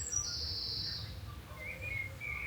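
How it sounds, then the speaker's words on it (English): Thin, high chirps and a brief trill from blue tits sound faintly in a garden over a low, steady outdoor rumble, with no one talking. "there's blue tits up there, taking the bugs off the side. Birds singing."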